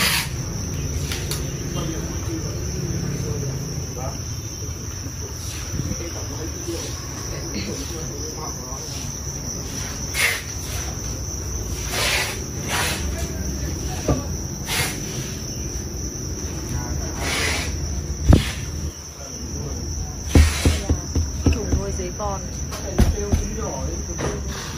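Crickets chirp steadily on a cricket farm, a dense continuous high trill with scattered sharper clicks and some low background hum throughout.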